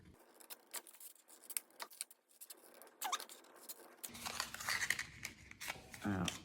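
Scissors snipping through paper to cut out pinwheel windmill pieces, a series of close, crisp cuts and rustles, getting louder and busier toward the end.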